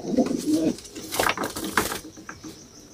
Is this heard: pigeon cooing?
yes